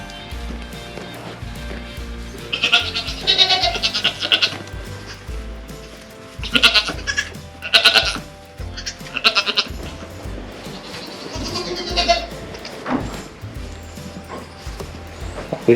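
Mother goat bleating loudly to her kids in several bursts, with creaking and rustling farm noises filling the gaps between calls.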